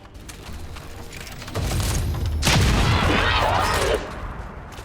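Gunfire in XCOM 2: War of the Chosen during a flanking shot, a loud booming burst that swells and rolls out over a couple of seconds, layered over steady game background noise.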